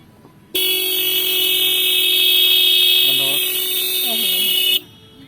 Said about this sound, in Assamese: এবাৰ হৰ্ণ মাৰি দেখাওকচোন